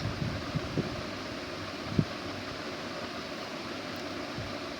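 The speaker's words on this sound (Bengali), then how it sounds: "আর মৃদু বাতাস বইছে" Steady, soft wind rushing outdoors, a continuous airy hiss with a few faint thumps, no voices.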